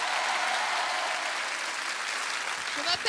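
A studio audience at a French comedy show applauds steadily to encourage a contestant, a dense continuous clapping heard throughout at moderate loudness.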